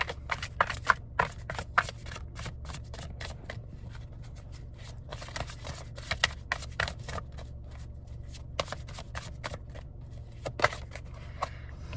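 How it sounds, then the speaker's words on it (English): A deck of affirmation cards is shuffled up close in rapid, repeated riffling bursts of crisp card flicks, with brief pauses between runs and no voice over it. "let me go ahead and pull some affirmation cards for you guys real quick"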